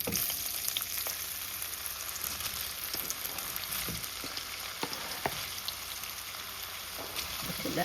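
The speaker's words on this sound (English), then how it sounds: "The first thing I'm gonna fry up my sausage them first, cause I want them crispy" Sausages frying in hot oil until crispy, a dense continuous crackling sizzle with scattered small pops and spits, close and steady throughout without speech.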